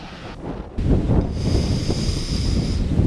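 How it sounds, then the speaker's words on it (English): Strong wind gusts buffet the microphone outdoors in a grassy yard beside an old bus and a Chevy COE cabover truck, a steady loud rumble that jumps up sharply after a brief quieter start. "even though it's really windy"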